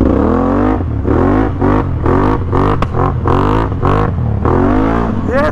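A tuned Can-Am Outlander ATV engine revs hard during a wheelie, loud and close with repeated surging pulls and brief drops in pitch between bursts.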